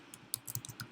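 A handful of keystrokes tapped on a computer keyboard while entering a web address, quick irregular clicks close by with no voices.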